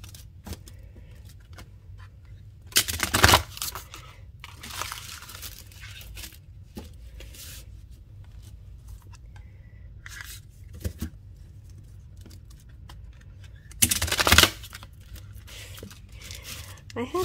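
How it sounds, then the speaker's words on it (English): Cards are shuffled in a few short, crisp riffling bursts, separated by quiet stretches with soft handling noises and occasional speech. "Give it a good shuffle."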